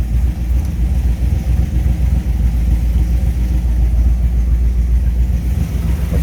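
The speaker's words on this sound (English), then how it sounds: "Here's a cold start for you." A 1961 Chevrolet Impala SS in unrestored original condition runs after a cold start, its engine rumbling loud and close with a steady, slightly lumpy idle throughout.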